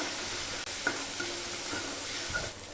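Onion frying lightly in a pan, a steady soft sizzle and hiss running throughout with a few faint clinks of stirring, fairly close and alone with no voices.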